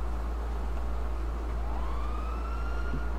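A police siren in the video game INSRP wails with a rising tone over a constant low engine-like hum, moderately distant and steady, with no speech.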